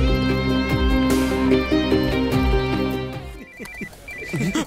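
A telephone ringing with a wife's incoming call in a Telugu movie comedy scene, a steady repeating tone pattern over background music, with a brief voice near the end.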